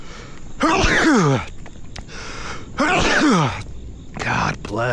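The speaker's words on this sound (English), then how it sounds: "Oh shit, I gotta sneeze." A man sneezes twice in quick succession, loud and close, each burst sharp with a strained vocal edge, followed by a third shorter breathy burst.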